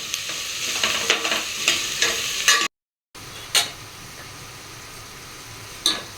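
Onions fry in oil for a mutton curry, crackling steadily while a spoon stirs and scrapes the pan in repeated strokes; the sound cuts out for a moment midway, then the sizzle and a few scrapes continue.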